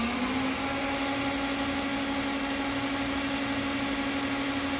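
Universal grinder ID spindle spinning at steady high speed, a constant close whine with a faint pitch rise at the start, even and unbroken throughout.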